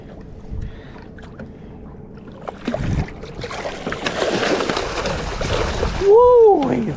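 A hooked fish thrashing beside a fishing boat kicks up a sudden burst of splashing water near the end, following quieter sloshing and brief talk.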